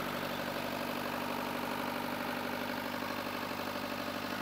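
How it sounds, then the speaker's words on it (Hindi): A 35 kVA four-cylinder diesel generator set with a single-phase Crompton Greaves alternator idles steadily after a self-start. Its loud, even engine drone and vibration are close by and continuous, with no voices. "ये आप देख सकते हो, ये जेनसेट स्टार्ट हो चुका है।"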